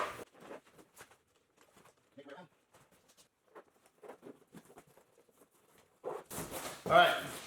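Someone works a zipper along the outer edges of a BedRug liner in a 2019 Ford F-250 truck bed, giving short scattered rasps and pulls that end in a louder burst of handling noise.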